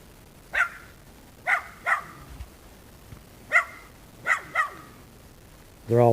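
Puppies bark in short sharp yaps, seven or so spread irregularly over a few seconds, fairly close and alone, ending with a longer higher whine or yelp.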